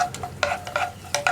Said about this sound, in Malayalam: റൈസിൻസ് ഒന്ന് ബബിളായി വരുന്നത് വരെ ഒന്ന് ഇളക്കി കൊടുക്കുക